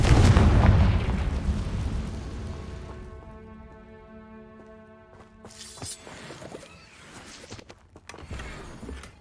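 A Confringo blasting spell in the Hogwarts Legacy video game erupts in a heavy, close boom that rolls and decays over several seconds, then gives way to crackling debris and scattered impacts over a soft musical tone.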